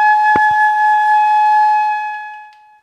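A flute headjoint blown on its own produces a steady, clear breathy tone that sustains and slowly fades, with a few soft clicks early on.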